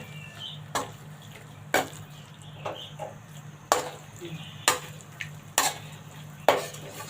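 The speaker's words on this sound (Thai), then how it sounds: "ผัดให้มันเข้ากันค่ะ ไอเครื่องแกงมันเข้าในในเนื้อหมูนะคะ" Pork and panang curry paste are stir-fried in a pan, with a metal utensil scraping and knocking against the pan in irregular strokes about once a second over a low steady sizzle.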